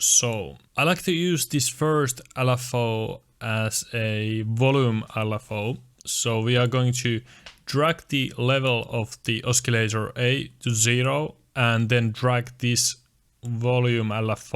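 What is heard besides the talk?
No distinct noise like a dog, phone or traffic.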